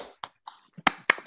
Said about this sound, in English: I want to invite everybody to unmute themselves and clap